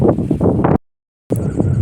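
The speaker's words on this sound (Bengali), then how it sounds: "তো প্রচণ্ড হাওয়া চলছে" Strong wind buffets the microphone outdoors in a loud, rough roar that cuts out briefly to silence for about half a second before returning just as strong.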